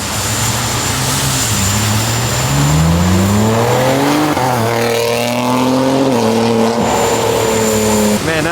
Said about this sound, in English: I'm pretty sure you guys can still hear the car from here